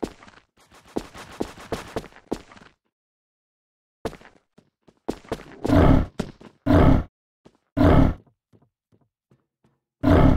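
A wolf in the Wolfteam shooter game lets out several loud, harsh roars in bursts, with scattered thuds and clatter of gameplay between them.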